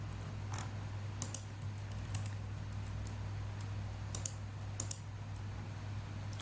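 Sparse, faint clicks and key taps on a computer keyboard while code is copied and pasted, scattered irregularly over a steady low electrical hum.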